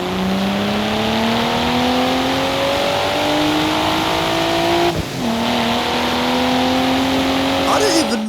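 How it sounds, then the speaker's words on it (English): A generic six-cylinder car engine in Forza Horizon 4 revs and climbs through gears, with a sustained rising drone, a brief dip at a shift, then another climb ending in a sharp rising whine. "Honestly, it just sounds like a very generic 6-cylinder sound from like no particular car"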